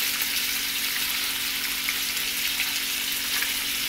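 Turkey bacon frying in a pan for a family breakfast gives a steady, even sizzle that crackles continuously and sits close and alone, with no voices.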